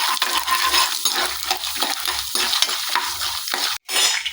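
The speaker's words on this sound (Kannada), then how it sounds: "ಕಡಲೆಬೇಳೆ, ಉದ್ದಿನಬೇಳೆ, ಎರಡು ಜೊತೆಗೆ ಫ್ರೈ ಆಗುತ್ತೆ." Chana dal, urad dal and peanuts frying together in a pan, a steady close sizzle broken by the repeated scrape and clatter of a spoon stirring, with a brief pause near the end before the frying resumes.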